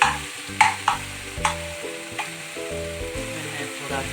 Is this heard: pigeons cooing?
no